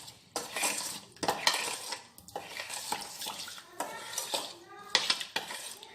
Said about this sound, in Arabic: وغادي نحرك باش تخلط ليا كلشي